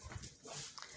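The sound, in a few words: puppy whimpering over a homemade biscuit ball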